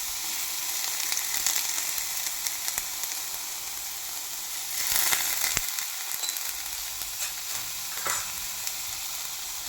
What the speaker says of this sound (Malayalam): അതിനുവേണ്ടി ഞാനൊരു പാനിലേക്ക് ആ കഴുകിയ ഉണക്കച്ചെമ്മീന് ഒന്ന് ചൂടാക്കി എടുക്കുകയാണ്